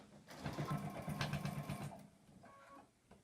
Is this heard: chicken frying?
no